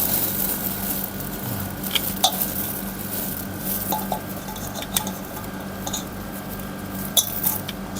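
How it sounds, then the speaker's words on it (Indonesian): Vegetable scraps for compost being cut by hand, a run of soft knife chops and squishy taps over a steady background hum, with a few sharper clicks. "Sampah-sampah seperti ini dipotong."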